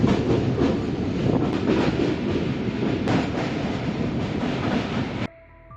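The Kanchankanya Express runs through jungle with a loud, continuous rumble and rhythmic rattling of the carriages, heard from on board. The roar cuts off abruptly near the end, leaving quiet.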